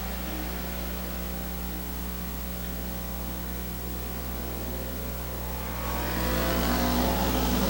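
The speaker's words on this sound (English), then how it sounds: "Six cars all racing for position right now with 2 laps in" Stock cars race at Midvale Speedway, their engines making a continuous loud roar with a rough low drone that swells louder near the end as the field passes close by.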